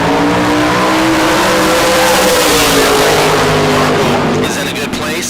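The TNT Supercar from Chino, a bracket drag race car at the K&N Southwest Showdown, roars hard under acceleration, engine pitch rising and falling in loud sustained harmonics, with an announcer talking over it.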